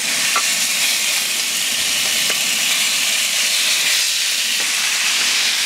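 Marinated meat for a homemade asparagus döner sears on a hot plancha, giving a loud, steady sizzle and hiss throughout, with faint crackles and no voices.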